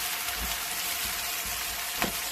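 Curry leaves, cumin, green chili and onion fry in a pot, giving a soft, continuous sizzle at close range with a few faint stirring scrapes.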